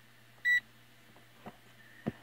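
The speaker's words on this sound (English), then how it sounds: "we should get some beeping" One short, clear electronic beep from a multimeter's continuity tester in a quiet room, followed by a couple of faint clicks.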